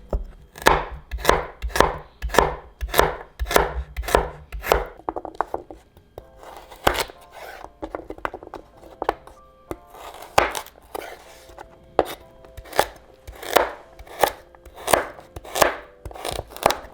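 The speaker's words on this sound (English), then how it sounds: "now we're just going to cut our carrot right into small pieces" A knife chops carrots into small pieces on a board with a steady run of crisp, close knocks. The chopping pauses for a few seconds with a few scattered taps, then resumes its even rhythm.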